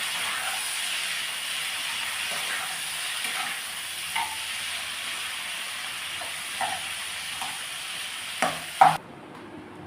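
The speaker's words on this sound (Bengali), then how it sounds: "আমি পেঁয়াজগুলো এবার এই তেলে দিয়ে দিলাম" Chopped onions and garlic fry in hot oil for a Malabar prawn dish, giving a steady, loud sizzle broken by occasional clinks and scrapes of stirring before the sound cuts off abruptly.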